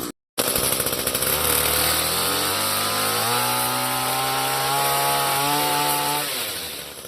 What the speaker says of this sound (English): On this one here, you could fire it up, and it idles without going anywhere until you squeeze the throttle.